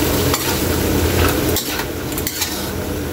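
Beef papaitan being stirred in a pot with beef cubes added, a close, loud clatter and scrape of utensil against metal over a continuous sizzle.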